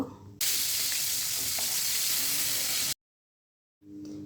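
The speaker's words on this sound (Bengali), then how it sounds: "মাছটা আগে ভেজে নিলাম" Small hilsa fish fry in oil with a close, loud sizzling hiss that runs for a few seconds, drops out abruptly, then starts again.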